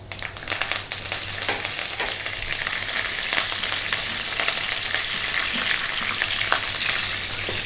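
Whole garam masala (cardamom, chili, cumin, peppercorns and cinnamon) fries with fresh curry leaves in a pan for beef curry, giving a loud, steady sizzle full of crackles and spits, with no voices.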